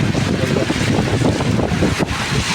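Heavy rain pouring down in Saudi Arabia, a dense, loud, unbroken wash of rainfall with wind buffeting the microphone close by, with no voices.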